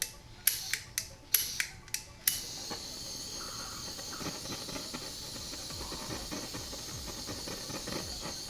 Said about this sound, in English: now we put the heat shrink on and we shrink those